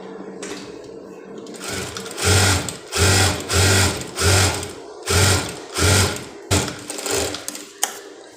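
Sewing machine stitching an inner blouse, running in about seven even bursts of rapid mechanical whirring with short pauses between, loud and close, with no talk over it.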